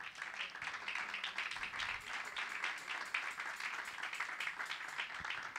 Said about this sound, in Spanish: Dale palmas al rey.